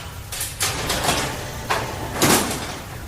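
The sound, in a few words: door opening, audiobook sound effect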